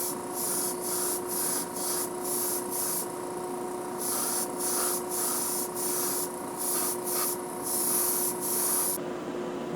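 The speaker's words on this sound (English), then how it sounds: "This airbrush came free with the compressor that I bought for my other airbrush." An airbrush driven by a compressor sprays paint onto a Deora model in short bursts of hiss. A steady compressor hum runs underneath throughout, and the spraying cuts off near the end.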